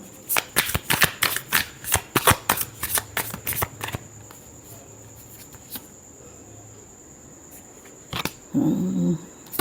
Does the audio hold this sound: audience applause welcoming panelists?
no